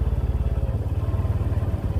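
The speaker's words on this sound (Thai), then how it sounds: "ตัวน้อยนี่ขับรถไถไปไถหน้าเลยเนาะ" A small farm tractor engine runs steadily close by, its low putting pulse beating in a fast, even rhythm.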